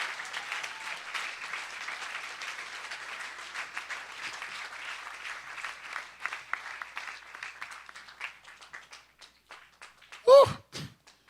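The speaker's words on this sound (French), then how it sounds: "Normalement, en se levant, on acclame Jésus." A church congregation at a Sunday service applauding, a dense sustained round of clapping that thins out and ends with a few loud thuds.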